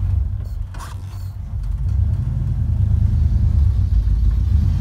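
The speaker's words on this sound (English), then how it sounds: "let's just go take it for a small little spin here in the parking lot" A 1950 Ford Custom setting off on a short drive around a parking lot: a few mechanical clicks and clunks, then a steady low engine rumble that builds slightly as the car moves.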